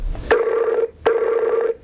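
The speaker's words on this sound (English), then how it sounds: "It's ringing." Two telephone ring-back tones sound during an outgoing call, each a steady electronic burst lasting about half a second, separated by a short pause. The line is clear, with no talking over it.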